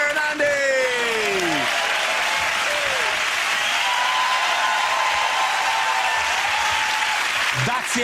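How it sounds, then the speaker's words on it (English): Loud, dense studio audience applause for comedians James, Sara and Andy at the end of a panel show, a continuous wash of clapping with a few whistles near the start. "give that round of applause for James"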